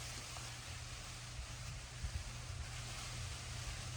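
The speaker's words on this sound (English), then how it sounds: "it is super, super windy today." Strong wind roars steadily outdoors beside a 1975 Chevrolet Corvette under repair, a dense low buffeting rumble that holds throughout with no talking.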